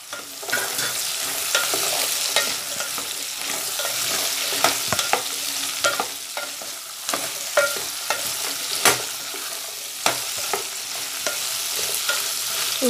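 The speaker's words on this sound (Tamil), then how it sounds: "நம்ம இதில் கட் பண்ணி வச்சுருக்க வெண்டைக்காய் இதிலே சேர்த்து வதக்கிடலாம்." Chopped okra sautéed and stirred in a pan with onion, a continuous close sizzle broken by frequent sharp scrapes and taps of the spoon against the pan, with no talking.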